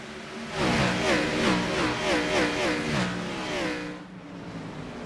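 iRacing race cars roar away at the green-flag start of a short-track race at Five Flags Speedway in Pensacola. Loud, layered engines rise in pitch as they accelerate together, then ease off after about four seconds.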